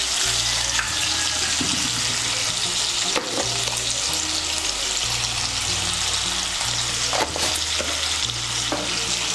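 Potato pieces seasoned with salt and turmeric frying in hot oil, a loud, dense, continuous sizzle with occasional stirring scrapes and crackles, close up and with no talk.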